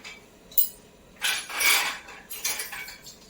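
Dishes and metal utensils clink and rattle in a home kitchen, several close, bright knocks and scrapes in irregular bursts with quiet between them.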